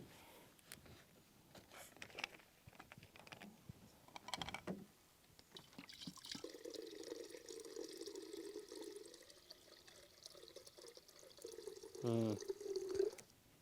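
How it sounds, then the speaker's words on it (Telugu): Water poured into a clay pot outdoors for Ugadi pachadi, a steady trickling pour in the middle stretch with drips and light handling sounds before it, and a voice talking at the end. "సరిపోయే వాటర్ సగం వాటర్ తీసుకున్నాము ఇందులోకి"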